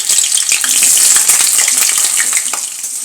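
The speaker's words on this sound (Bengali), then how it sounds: "এবার একটা কড়াইয়ের মধ্যে পরিমাণ মতো সর্ষের তেল দিয়ে দিচ্ছি, আর এর মধ্যে এক এক করে কেটে রাখা আলুগুলো ভেজে নিচ্ছি।" Potato pieces fry in mustard oil in a wok, giving a steady, loud, close crackling sizzle that runs without a break and with no voices.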